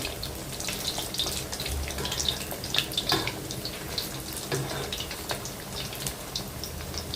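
Chicken nuggets frying in a pan just after being flipped give a steady, dense crackling sizzle that runs throughout, close and fairly loud, with scattered sharper pops and no voices.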